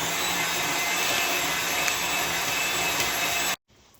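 An electric whisk beats pumpkin cheesecake filling sweetened with brown Swerve, giving a steady, loud motor whir that runs unbroken for several seconds and then cuts off abruptly.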